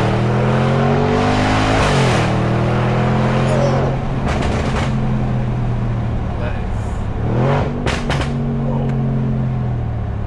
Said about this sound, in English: We've done all of those gunshots, we've done all of that pops and bangs right there